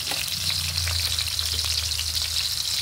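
Garlic and onion for frog adobo sizzle steadily in hot oil in a pan, a dense continuous frying hiss with occasional soft stirring, close and alone without talk.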